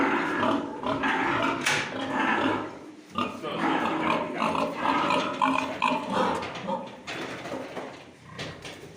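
Piglets of about 13 kg, around 40 days old at weaning, grunt and squeal in a busy, overlapping chorus at close range, with some rustling and a brief clatter early on.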